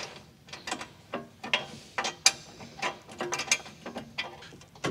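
A ratchet wrench rapidly clicks as it tightens 10mm and 4mm bolts on a Jeep Wrangler JL tailgate table, with repeated close, loud bursts of ratcheting strokes and nothing else.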